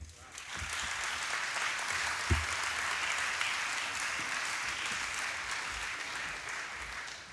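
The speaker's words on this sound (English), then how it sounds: "Can we give another round of applause for Richard, please, our Ocean Race Chairman?" Sustained audience applause fills a hall at the Ocean Race Summit in Genova, honoring the Ocean Race chairman. Dense, even clapping runs steadily throughout, with a few louder claps standing out.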